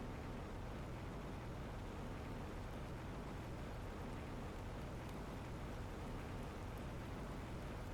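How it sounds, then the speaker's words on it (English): Steady rain falling across an alien planet in the survival game The Planet Crafter, a dense even hiss with low rumbling underneath, continuous and alone without any voices. "And it started raining."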